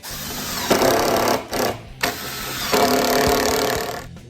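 A FastCap screw gun drives power head screws, whirring loudly in two sustained runs broken by short pauses and a brief burst between them, close up and with no talking.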